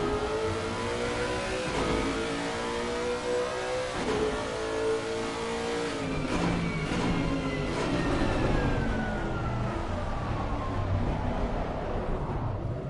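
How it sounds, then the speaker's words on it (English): A race car engine screams at high revs, repeatedly bouncing off the rev limiter in a steady, loud, stuttering drone with slight pitch wobbles throughout, no voices over it. "Breaking that rev limiter down, boy."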